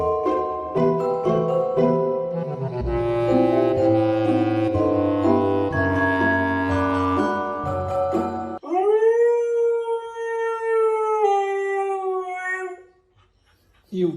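A dog's long wavering howl rises and holds loud and close after music that plays first, ending in a short whimper.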